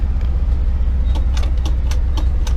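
A carbureted GMC engine idles steadily, with a loud, even low rumble and faint intermittent clicks or ticks above it, and no talk.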